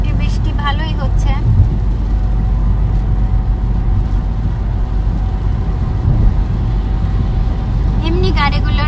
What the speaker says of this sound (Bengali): এমনি গাড়িগুলোর এই যে এইরকম ফ্লাশ হচ্ছে বৃষ্টির পানিতে, কিন্তু বড় বড় গাড়িগুলোর একটু বেশি পানি ফ্লাশ হচ্ছে